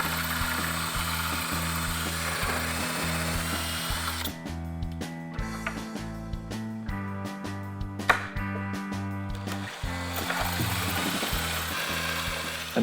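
A power drill bores an angled pocket hole into wood through a pocket hole jig, its motor whining in steady pulses with a rougher cutting stretch in the middle, loud and close with no talk.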